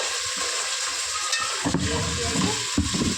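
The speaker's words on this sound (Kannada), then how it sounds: "ಸೊ ಇದೆಲ್ಲಾನು ಚೆನ್ನಾಗಿ ಫ್ರೈ ಮಾಡ್ಕೋಬೇಕು ಫಸ್ಟು" Tomato and other ingredients for tomato bath fry in a pan with a steady, close sizzle, broken by a few stirring scrapes and clinks.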